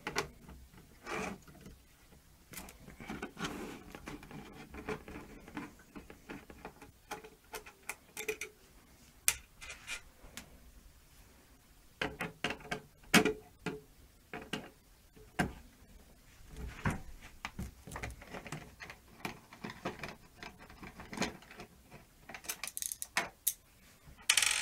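Screws being driven into the brackets of a Cooler Master PC case for a $700 gaming build, giving a dense run of close, irregular clicking and ratcheting ticks that keeps going with short pauses and no talking.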